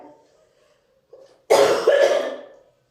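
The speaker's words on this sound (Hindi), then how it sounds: "आज खांसी आ रही है बहुत" A single harsh, loud cough bursts out close by in two quick pushes, preceded by a soft throat sound and faint murmur.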